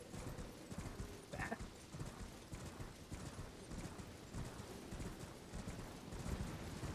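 In the Elden Ring video game, a horse's hooves gallop in a fast, steady rhythm, fairly faint and continuous under a dense game ambience, with a brief whinny-like cry partway through.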